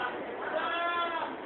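Goat bleating close by: one drawn-out, wavering bleat that fills the short clip.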